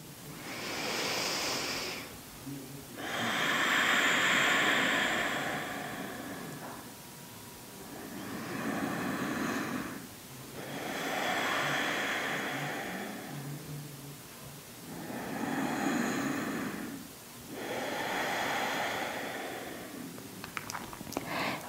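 Slow, deep yoga breaths fill the quiet room, each inhale and exhale swelling and fading as a soft airy rush, in an even cycle of roughly five seconds repeated four times, close and unaccompanied.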